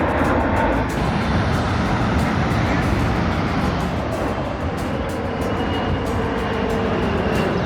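Broadband roar of a jet airliner on the river approach into Reagan National Airport in Washington DC, loud and steady throughout with no break, heard outdoors with no voices.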